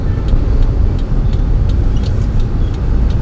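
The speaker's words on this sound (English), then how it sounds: "Check out this traffic." Dense street traffic in Vietnam, a steady roar of cars, motorbikes and buses close by, with faint clicks and brief higher hisses riding on a constant low rumble and no talk.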